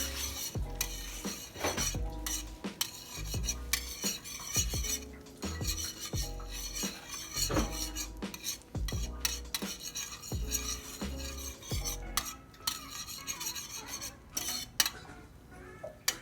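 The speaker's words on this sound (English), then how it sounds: "in a pan I have some butter that's melting, and I am going to whisk it together" Butter is whisked as it melts in a pan for a chicken wing sauce, with rapid rhythmic metal clicks and scraping of the whisk against the pan, fairly quiet and continuous.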